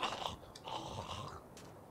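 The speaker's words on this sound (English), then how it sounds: "I'm a little wary of when I hear the growling, crunching noises" In the Minecraft Forever Stranded world, crunching, growling creature noises come in short gritty bursts, fairly faint and with no talk over them.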